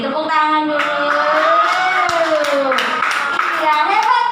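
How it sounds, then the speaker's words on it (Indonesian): An audience at a health product seminar claps together while voices carry on loudly over the top, a steady patter of hands running beneath the talk. "Tepuk tangan dulu."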